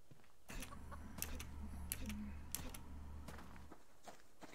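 A chicken being chased on foot clucks in quick, scattered bursts over a low steady hum, with scuffling steps mixed in and no talking.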